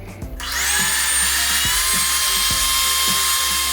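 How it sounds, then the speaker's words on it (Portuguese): An electric stand mixer beats butter and sugar into a creamy base for butter cookies, a loud steady high motor whine starting up and holding, with rhythmic low knocks of the beater. "enquanto a manteiga está batendo na batedeira com açúcar para formar o creme que eu preciso"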